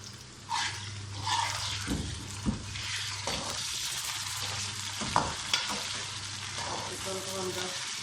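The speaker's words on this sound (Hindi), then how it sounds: "चिकन को हम 10 से 15 मिनट भूनेंगे, फिर इसमें हम मसाले ऐड करेंगे।" Chicken pieces fry in a pot for Chitrali biryani: a loud, steady sizzle with clanks and scrapes from stirring, some close and sharp, and no speech.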